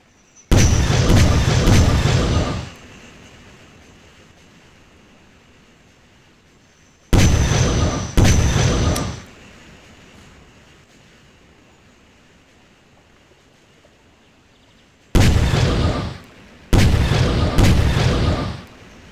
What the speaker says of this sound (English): Keep firing, men! Keep firing the cannons!